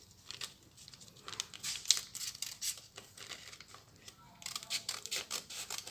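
Scissors snip and rustle through paper while cutting out a beret pattern, soft crinkling cuts close by in uneven bursts with brief gaps between strokes.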